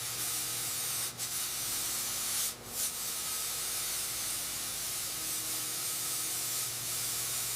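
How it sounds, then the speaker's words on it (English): A spray gun lays primer onto a repaired 1955 Chevrolet fender with a steady, close, loud hiss. The hiss runs almost unbroken, dipping only briefly twice near the start. "here's the 55 Chevy fender, ready for primer"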